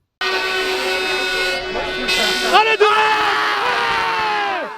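A strongman at a strength competition lets out a long, loud, strained yell close up, his raw voice rising and breaking mid-shout before trailing off.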